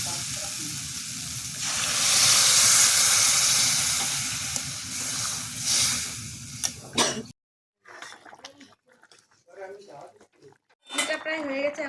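Water poured into hot pan of fried spices with coriander powder for a Bengali rohu fish curry, a loud sustained hiss and sizzle that fades after several seconds, followed by someone talking.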